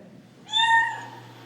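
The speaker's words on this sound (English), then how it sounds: "Look, Father, the ship's cat." A ship's cat meows in a stage play, a single clear, drawn-out meow heard alone over a low steady hum.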